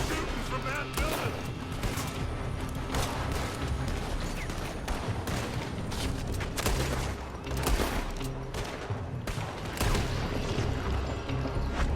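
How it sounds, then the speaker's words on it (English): Gunfire rages in Red Dead Redemption 2 as shooters fire from a building: rapid, dense volleys of shots and booms crack over a constant loud backdrop of battle noise, with voices talking over the fight. "They're shooting from that building!"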